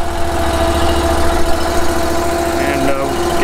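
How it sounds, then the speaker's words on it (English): Gasoline engine on a Cord King M18-20 firewood processor idling as it warms up before cutting boiler wood, a steady loud low rumble with an even throb and no pause throughout. "we're warming up the engine."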